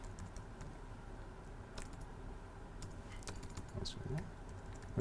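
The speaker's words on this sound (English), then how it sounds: "And just type in Wikipedia." Quiet keystrokes on a computer keyboard, a handful of scattered soft clicks over a faint background hum.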